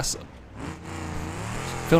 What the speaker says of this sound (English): It's now very loud all of a sudden as it loses the exhaust. And V8 sort of roar going on.